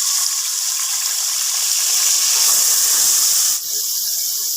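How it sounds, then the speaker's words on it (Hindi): A loud, steady hiss of water poured into a hot pan of frying peas pulao sizzling, broad and close, easing off briefly near the end before continuing. "अब इसके अंदर थोड़ा सा पानी डाल देंगे।"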